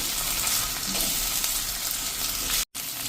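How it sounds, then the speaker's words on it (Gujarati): Carrot and capsicum sauté in oil and ghee with a loud, steady sizzle and crackle that fills the whole stretch, briefly cut off near the end, while the vegetables are stirred in the pan. "આપણે ઘીમાં જ આપણે આ વેજીટેબલને સાંતળી લેવાના છે"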